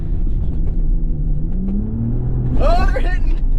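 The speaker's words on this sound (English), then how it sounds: "Pedal down. Turbos hit. You really feel those turbos." A Ram RHO pickup's turbocharged engine accelerates at full throttle, a deep rumble climbing steadily in pitch, with a voice briefly cutting in near the end.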